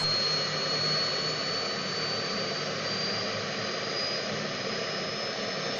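Steady engine whine and roaring rotor noise of a helicopter in flight over the Ulster Canal, constant and fairly close, with no talking.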